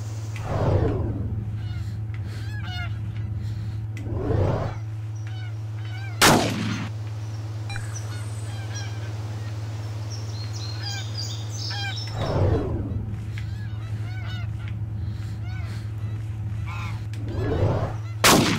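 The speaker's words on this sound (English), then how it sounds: "we're hunting geese" Geese honking repeatedly in the Cabela's Big Game Hunter goose-hunting minigame, calls scattered across the scene over a constant low hum, punctuated by several loud gunshot blasts.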